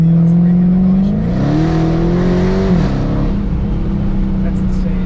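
Dodge Charger Daytona Hellcat accelerating hard, its loud engine note climbing in pitch and then dropping through a downshift, heard close up from inside the car with a steady heavy drone throughout.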